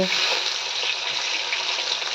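Fish coated in salt and turmeric frying in hot oil in a pan, a loud, continuous bright sizzle and crackle that stays even throughout with no talking.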